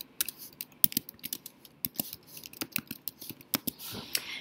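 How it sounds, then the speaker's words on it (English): Rapid, irregular key clicks from a computer keyboard as a title is typed, close and fairly quiet, with short pauses between bursts of keystrokes. "So I'm going to type in the title."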